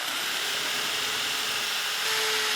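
A steady, loud high-pitched whir of a power drill with a 1/8 inch bit runs continuously, drilling out a metal pop rivet, with a slight shift in pitch near the end.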